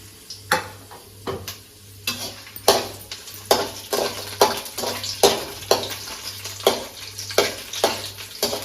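Tamarind, cumin, chili and coconut being stirred in a hot frying pan: a steady sizzle broken by a regular run of sharp spatula scrapes and clinks against the pan, close up, with no talking.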